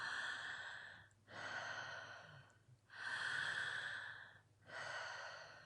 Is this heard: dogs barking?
no